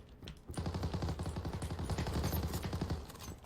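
Rapid automatic gunfire from the video game Zula, a loud sustained burst of evenly spaced shots running for about three seconds with no talk over it.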